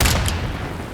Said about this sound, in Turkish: İnelim patlatayım güm